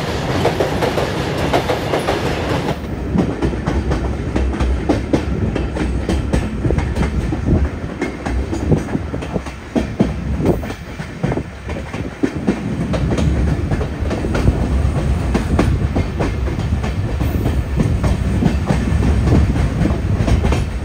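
An Indian express train hauled by a WDG-4G diesel locomotive runs from Kolkata toward Sairang, its wagons rumbling with steady clickety-clack close by and continuously loud for the whole stretch after a brief quieter start.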